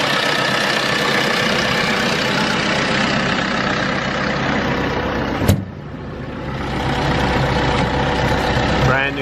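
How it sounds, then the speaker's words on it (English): A Kohler diesel engine runs steadily in a nearly new 2021 JCB 86C-2 mini excavator. It is loud and close, with a constant rumble broken by one brief knock midway. "Got a Kohler diesel in there."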